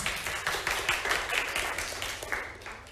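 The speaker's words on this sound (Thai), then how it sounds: "ปรบมือให้เพื่อนหน่อยค่ะ" Classroom of students clapping for a classmate, a steady patter of many hands lasting the whole stretch at moderate level, with no talk over it.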